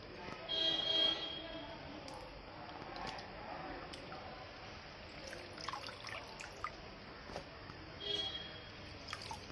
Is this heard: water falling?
yes